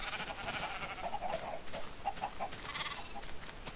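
Sheep in the game Minecraft bleat several times in short wavering calls, scattered over a steady low background of game ambience, with no talking.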